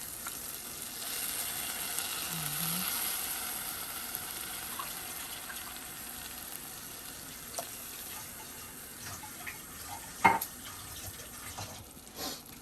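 A quiet, steady sizzle of water added to tomato sauce in a hot pan on low-medium heat, with a few soft clinks of a utensil near the end.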